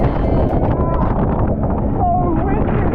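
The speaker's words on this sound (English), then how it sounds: "Oh, windy!" Strong wind buffets the microphone on a tour boat off Koh Phi Phi, Thailand, during a rainy storm, a constant roaring rush with voices underneath.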